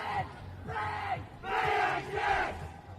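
The New Plymouth Boys hockey team chants a rhythmic cheer at a Super 8 school hockey match, loud unison shouted phrases in repeated bursts with short pauses between.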